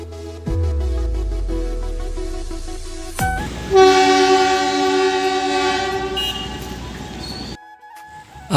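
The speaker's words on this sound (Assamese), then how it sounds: "ইফালে এটা টয় ট্ৰেইন আহি আছে" A toy train rumbles past nearby with clattering wheels in Nepal, then gives a loud, sustained horn blast that lasts several seconds before cutting off.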